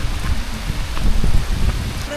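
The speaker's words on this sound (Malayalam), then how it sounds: "നല്ല മഴ" Heavy rain pattering close by on a misty hilltop in Kerala, with low rumbling wind noise, loud and continuous, with a voice faintly mixed in.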